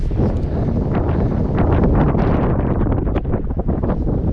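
Strong southeasterly wind sweeping a remote beach on Cape York, far north Queensland, a loud continuous roar buffeting the microphone with gusty surges throughout and no voices.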